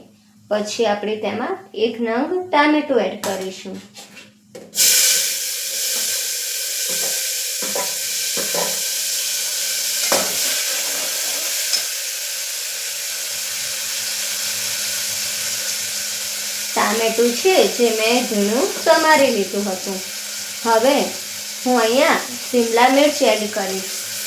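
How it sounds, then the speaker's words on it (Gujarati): Vegetables sizzling in a pan with cashew pieces for green vegetable fried rice, a steady loud frying hiss that runs for most of the clip, with someone talking over the start and end. "તેને બરાબર સાતળી લેશું"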